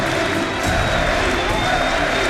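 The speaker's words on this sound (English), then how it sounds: "We hear the crowds here." Large arena crowd at the 2014 League of Legends All Star grand final between OMG and SK Telecom T1, a dense, steady roar of cheering and applause filling the space, with a commentator's voice running over it.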